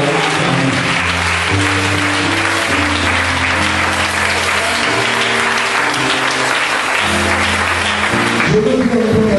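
Church congregation applauding and acclaiming the Lord, steady sustained clapping and cheering filling the hall alongside loud organ or keyboard music chords throughout.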